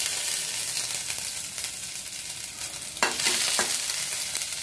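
Ginger and garlic paste frying in a hot kadai, a steady soft sizzle with a few brief stirring scrapes near the end, close and alone with no talk.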